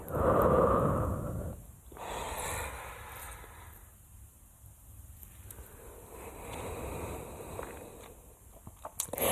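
Breathing during a yoga flow of rounding and arching the back, with a loud exhale at the start, then slower, softer in-breaths and out-breaths close to the microphone, with faint rustling and no speech.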